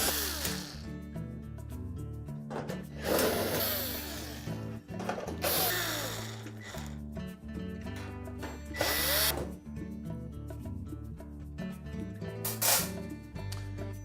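A power drill backs screws out of the upper panel of a GE electric range, whirring in short bursts with pauses between, close and fairly loud with no speech.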